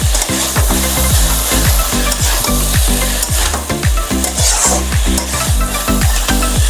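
Vetki fish kosha sizzles in a pan while a spatula stirs it in quick repeated scrapes, a steady close-up frying crackle punctuated by rhythmic stirring strokes, with no voices.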